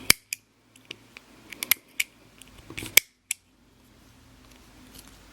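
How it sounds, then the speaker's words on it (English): Sharp scissors snip yarn on a multicolor crochet winter hat, giving a close series of crisp irregular clicks and snips that stop before a quiet tail, with no speech. "So take my super sharp scissors."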